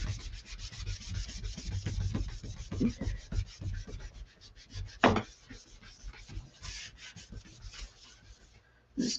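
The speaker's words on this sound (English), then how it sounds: "So I'm going to flip this over and just kind of burnish it in." Close, rhythmic rubbing as a chalk transfer is burnished onto wood by hand, a fast series of soft scraping strokes with a few sharper knocks and scuffs along the way, quiet and with no voice over it.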